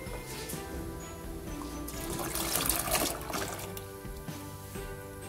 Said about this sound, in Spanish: tomo un colador y voy a agregarlo acá